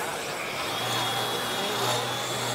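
A dust extraction vacuum attached to a sander runs steadily at a trade show, giving a loud, close, continuous whooshing whine with a faint tonal hum.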